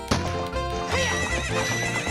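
A horse whinnies loudly and close during a horse race in The Legend of Zelda: Ocarina of Time, with hoofbeats clip-clopping underneath in a busy, music-like game mix.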